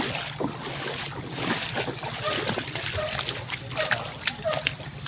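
Water splashes and sloshes continuously as something pushes through deep floodwater, with voices talking over the noise.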